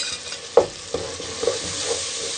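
Whole garam masala, red chili, coriander powder and kasuri methi roast in a pan for red lobia, a spatula scraping through them in about four distinct strokes over a soft, continuous sizzle.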